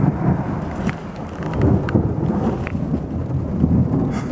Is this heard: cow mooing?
no